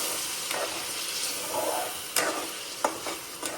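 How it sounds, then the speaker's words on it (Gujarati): Buttermilk curry being stirred in a pan: soft scraping strokes over a quiet simmering sizzle, with a few sharper knocks of the spoon against the pan near the end. No one speaks. "તેને સારી રીતે હલાવી નાખીએ અને થોડી વાર પાકવા દઈએ"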